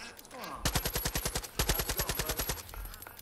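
Rapid automatic gunfire in Far Cry 5 as birds are shot at, two long bursts of evenly spaced loud shots separated by a short pause, with a faint game tone behind.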